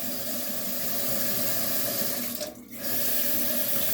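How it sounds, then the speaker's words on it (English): A dish rinsed under a running kitchen tap after scrubbing with a Scotch-Brite pad, steady close water rush with a brief dip as the stream is interrupted, then flowing on. "Rinse all off."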